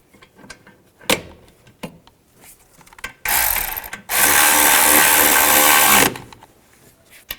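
A wrench works the caliper bracket bolts on a 2010-2017 Chevrolet Equinox rear brake, with scattered clicks and clanks followed by two loud bursts of rapid ratcheting, the second lasting about two seconds.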